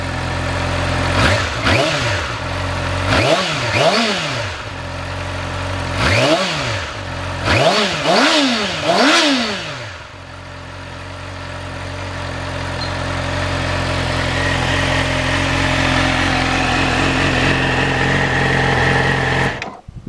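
A 2012 facelifted motorcycle blips its throttle five times in quick bursts, each rev rising and falling sharply, then settles into a steady, loud idle that runs on alone until cutting off at the end.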